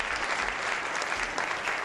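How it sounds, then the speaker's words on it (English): An audience gives a round of applause for a volunteer after a magic number-guessing trick at a talk, steady dense clapping filling the room throughout. "Round of applause for Pretty"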